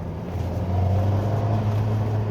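A Lotus Emira 2.0 with its engine mounted just behind the driver hums steadily from inside the cabin while driving, a low continuous drone without revving.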